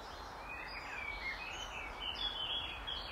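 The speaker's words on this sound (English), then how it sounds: "The sound of those birds is even more evident now, because not only are they next to us, they're above us as well." Birds sing in the trees along a dusky tree-lined path, a faint but steady mix of chirps and trills above a soft outdoor hiss, with no voices.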